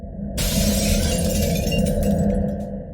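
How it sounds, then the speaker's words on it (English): Glass shatters with a sudden loud crash during a home break-in, followed by a dense spray of breaking and tinkling shards that fades over a few seconds. "the shattering sound of a break-in echoed from downstairs"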